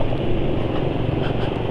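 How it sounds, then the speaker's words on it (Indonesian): Car engine with Prestone 20W-50 oil idling rough at low RPM, a steady close droning rumble with uneven texture and no pauses throughout. "suara mesin sudah nggak halus."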